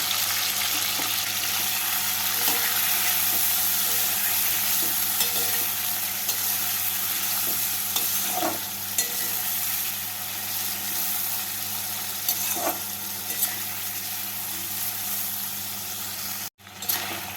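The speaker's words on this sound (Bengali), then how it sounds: "এবার এই তেলের মধ্যে চিংড়ি মাছগুলোকে দিয়ে ভেজে তুলে নেব" Continuous crackling sizzle of shrimp frying in hot oil, steady and close, with a low hum and occasional scraping stirs.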